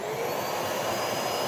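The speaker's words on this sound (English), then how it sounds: "Start up the vacuum" A shop vacuum starts up beside a running lathe while wood is trimmed, a steady, loud whooshing roar, constant throughout the short stretch.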